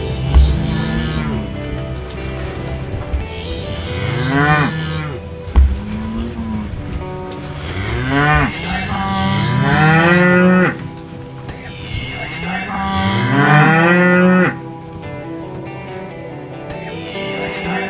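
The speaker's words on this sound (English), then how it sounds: "the pasture that we're in also has cows in it" Cows in a pasture moo repeatedly, long loud calls sliding up and down, spaced a few seconds apart and close by, with a thump and some low background noise between them.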